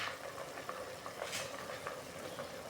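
Adobo bubbles in a pot as sweet potato goes in, a soft, steady sizzling and bubbling texture with light clicks and stirring sounds, faint and close, with no talking.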